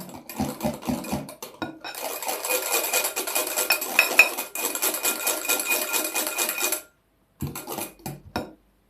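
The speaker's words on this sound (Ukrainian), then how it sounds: "Я спочатку частину додаю сюди до яйця і цукру і розмішую." A utensil stirs warm kefir into eggs and sugar in a bowl for kefir pancakes, quick clinking and scraping against the bowl, close and continuous, then a pause and a few final taps.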